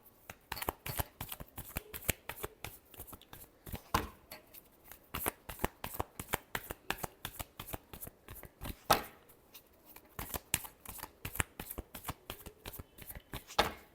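Tarot cards being shuffled by hand, a long run of quick, crisp riffling flicks in uneven bursts, close up and fairly quiet, with no speech.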